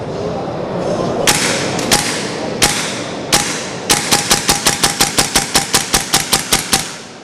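Hatsan air rifle firing at an international hunting and shooting sports fair in Istanbul: a few spaced sharp cracks, then a rapid run of about fifteen evenly timed shots, loud over a murmuring crowd.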